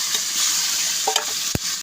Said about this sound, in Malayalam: എണ്ണ ഒഴിച്ചു പിന്നെ അതിലേക്ക് നമ്മൾ അരിഞ്ഞ് വെച്ചിരിക്കുന്ന പയർ ഇട്ട് കൊടുത്തു